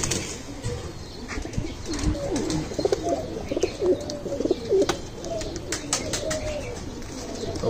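A Sialkoti-breed flying pigeon held in the hand coos softly in repeated low murmurs, close by, with a few chirps and brief wing rustles in the background.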